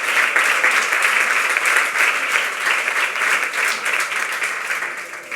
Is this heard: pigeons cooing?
no